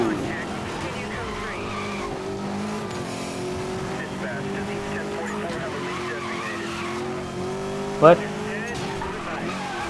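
Tires squeal as a Koenigsegg Agera drifts in Need for Speed Most Wanted 2012, a sustained screech over a steady, loud racing engine drone, with a brief sharp spike near the end and a voice speaking briefly.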